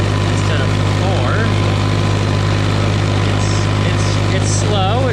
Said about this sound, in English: This little fork tractor going in second gear instead of third.